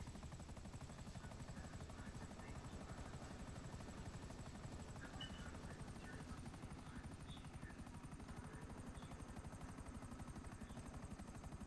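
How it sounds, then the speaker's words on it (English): A helicopter with retractable landing gear flies in GTA Online, giving a steady, continuous rotor and engine drone with an even chopping pulse throughout and no talk over it. "Who was flying the dang helicopter?"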